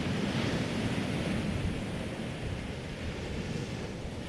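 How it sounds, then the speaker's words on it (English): Ocean waves breaking on a beach, a continuous loud roar of surf with wind buffeting the microphone, no voices. "really just to hear the waves"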